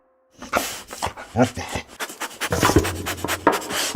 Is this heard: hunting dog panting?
yes